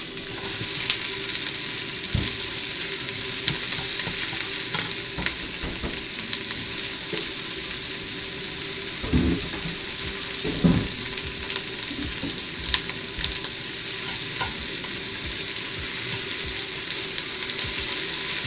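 Pork and cabbage stir-frying in a pan, a steady loud sizzle with occasional clatter and scraping as the food is turned, continuing without speech throughout.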